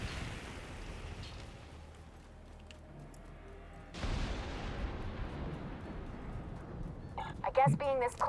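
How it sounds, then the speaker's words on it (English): Mortar rounds fire in a video game battle, with booming blasts and a rumbling burst midway, heard under a voice talking. "even more mortars"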